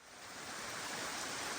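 A creek on the Killarney La Cloche Silhouette Trail flows with a steady, even rushing hiss that swells slightly and then holds, fairly faint and unbroken.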